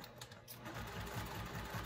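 A sewing machine runs steadily, top stitching a homemade tote bag at a 2.5 stitch length, with a fast even whirring rhythm that starts softly and settles into a continuous quiet hum close by.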